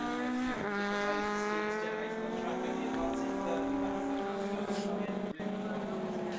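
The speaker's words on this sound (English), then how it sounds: "the sights and the sounds are excellent as these cars go past our commentary position" Caterham race cars at Snetterton circuit roar past with steady engine notes rising and falling as they go by, loud and close to the track, with a commentator talking over the sound throughout.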